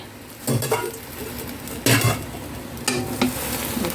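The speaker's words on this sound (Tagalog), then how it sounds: "Haluin lang natin mabuti ang ating ginisang munggo with alugbati." A sautéed mung bean stew with cabbage and alugbati greens is stirred in a pot, three bursts of spoon scraping and clinking over a low simmering sizzle, close and without speech.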